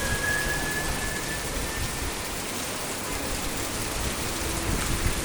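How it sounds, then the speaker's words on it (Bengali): Heavy rain pours down steadily outdoors near a shop under a dark sky, a dense continuous hiss with no voices, constant and fairly loud throughout. "ভারী বৃষ্টি নামছে এবং এই বৃষ্টি কতক্ষণে শেষ হয় এক আল্লাহ জানে।"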